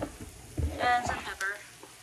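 Vegetables sizzle in a hot pan while being stirred, with a few brief scraping bursts of stirring over a low frying hiss, close and moderately loud.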